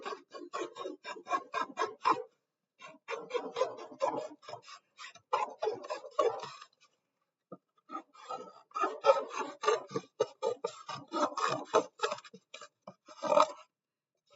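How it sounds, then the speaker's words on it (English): Rapid rasping strokes of a saw cutting cardboard come in bursts, back and forth, pausing twice before resuming, close and fairly crisp. "sawing back and forth to let the teeth cut through the cardboard"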